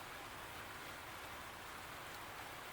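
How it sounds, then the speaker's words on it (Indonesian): Rain falls steadily outdoors as an even, continuous hiss that fills the whole moment, soft in level, with no voices heard. "Teman-teman, mohon maaf ya jika agak berisik, soalnya ini lagi hujan."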